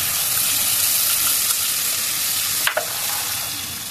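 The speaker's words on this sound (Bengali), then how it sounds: "এবার আমি ভালো করে মশলাটা একটু কষিয়ে নিব" Ginger garlic paste goes into a pan with fried onions, salt and ground coriander, chili, turmeric and cumin, and sizzles loudly and steadily as it is stirred, with a short scrape of the spoon near the end.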